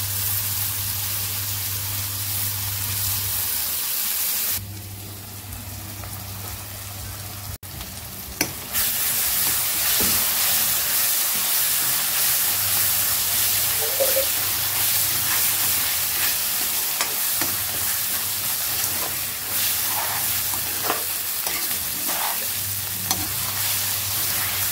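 Green chili paste fries in a hot pan, a steady dense sizzle broken by scraping stirs and brief gaps, close and continuous throughout.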